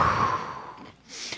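A person imitates Darth Vader's mechanical breathing, a drawn-out raspy breath in followed by a hissing breath out, close to the microphone.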